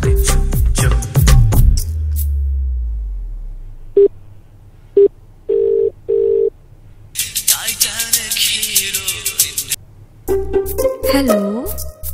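A telephone gives a few short electronic tone bursts that stand out clearly between louder stretches of noisy clatter and voices in a comedy scene.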